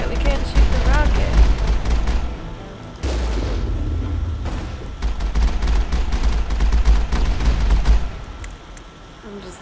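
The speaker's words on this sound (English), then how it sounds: "I'm just letting the rockets hit us" Rockets slam into the player's squad during a Mass Effect 1 firefight on Noveria, with dense bursts of booming impacts and rattling gunfire running loud and continuous, then easing off near the end.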